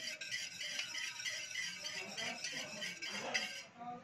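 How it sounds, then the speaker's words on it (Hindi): Whisking buttermilk and curd together in a bowl for lauki raita, a steady busy clinking and scraping of a utensil against the bowl throughout, close and fairly quiet. "एक कटोरी दही ली है, दोनों को मिक्स कर लेंगे और इसको थोड़ा सा फेंट लेंगे"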